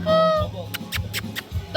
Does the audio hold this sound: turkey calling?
yes